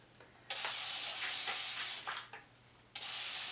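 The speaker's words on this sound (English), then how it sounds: "I'm going to take a spray bottle of water" Several bursts of fine water mist hissing from a spray bottle onto hair, each a second or so long, close by with short pauses between them.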